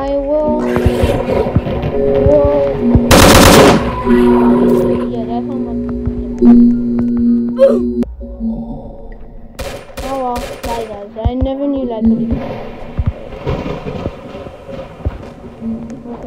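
A video game gun fires one loud, dense burst of shots early on, followed later by a few sharp, quick reports, under ongoing game sounds with musical tones.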